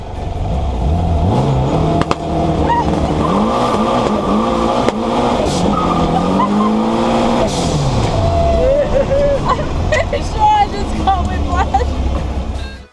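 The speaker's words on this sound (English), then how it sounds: "The ECU releases the engine for an explosive launch." A turbocharged Type 4 VW Beetle street car launches hard, its engine roaring with rising and falling revs through gear changes, loud and close for the whole stretch; a voice speaks over part of it.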